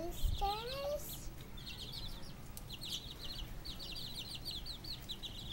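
Chickens and roosters, including a hen with chicks, make soft clucks and chirps nearby along with a brief rising call near the start, over a quiet farmyard background.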